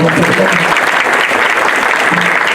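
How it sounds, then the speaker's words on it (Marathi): Loud, continuous applause from an audience for a small child playing the mridang, dense and sustained, with a voice faintly audible underneath. "त्या लेकरासाठी एका प्रेमानं टाळी वाजवा."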